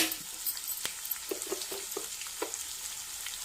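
Onions with a pinch of salt frying in a pan, a faint steady sizzle with soft scattered stirring ticks and scrapes, close by and without talk.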